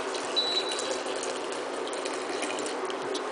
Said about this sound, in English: It's boiled. Take the water off. Give it a pour into the